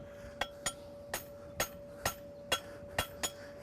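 A hammer strikes a horseshoe on an anvil at a forging clinic, eight sharp ringing blows at a steady, fairly quick rhythm, close and clear over a faint background hum.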